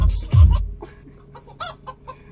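Clucking hens from a song playing in a taxi come through as a few sharp, close squawks and then lighter clucks that fade into scattered bits.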